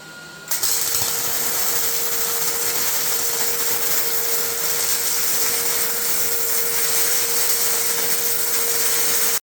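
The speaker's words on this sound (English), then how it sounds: "once we get this top side welded, or the back side actually, we'll flip it over and we'll weld the other side." A John Deere quick attach conversion bracket is welded: a loud, steady hissing crackle starts abruptly and runs continuously without a break, with no talking over it.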